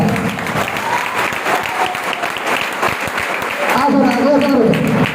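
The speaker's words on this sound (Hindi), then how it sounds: "जोरदार क्लैपिंग करो इनका।" An audience breaks into sustained clapping, dense and loud, that swells near the end, while a voice calls out over the applause.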